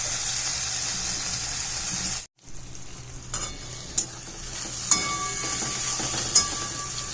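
Boneless chicken pieces sautéing in a pan for kosha, a steady soft sizzle with occasional stirring clinks and scrapes, fairly quiet throughout.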